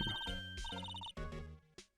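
A telephone rings in the Ace Attorney video game, a trilling electronic ringtone repeating in bursts with short gaps, loud and alone with no talk over it.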